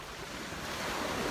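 Sea waves wash onto a beach on a hot, clear day, a steady broad roar of surf mixed with some wind noise on the microphone, constant and moderately close with no talking.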